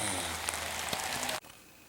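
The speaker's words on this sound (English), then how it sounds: "I hate to dig in the rain." Rain falls steadily outdoors on a metal-detecting dig in Pennsylvania, a close, dense patter with scattered drops, then cuts off abruptly to near silence partway through.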